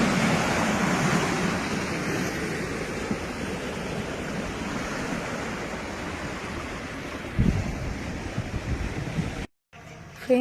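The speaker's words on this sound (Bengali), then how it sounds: "এই হচ্ছে সি বিচ।" Sea waves roll in at Junput beach in Bengal, a broad continuous roar of surf with gentle surges, fairly close. A louder swell comes midway, and the sound cuts out briefly near the end.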